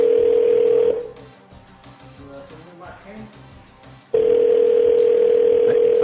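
A telephone call on the line: a steady electronic tone sounds, cuts out while a voice speaks briefly, then the loud continuous tone returns.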